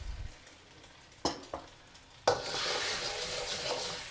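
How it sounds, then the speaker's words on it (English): An egg drops into hot oil in a wok with a couple of soft clinks, then bursts into a steady crackling sizzle that continues quietly for the rest of the clip. "put the egg into the wok"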